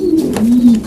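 Pigeons at a pigeon sale in Damietta, meat and homing birds, give a loud, close, low rolling coo that lasts under a second, with no voices over it.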